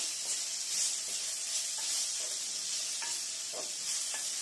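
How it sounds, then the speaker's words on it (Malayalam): Onions sizzle steadily in a pan for a sardine curry while a spoon stirs them, scraping strokes recurring every second or so over a bright, continuous frying hiss. "ഉള്ളിയൊക്കെ കുറച്ച് ബ്രൗൺ ആവണ വരെ നല്ലപോലെ ഇളക്കി കൊടുക്കാം."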